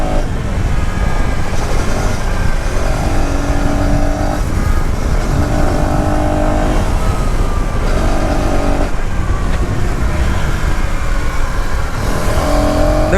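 A 2026 KTM Duke 250 single-cylinder motorcycle ridden in the mountains, its engine droning loudly and steadily up close while revs rise and fall through several gear shifts, with wind rushing past throughout.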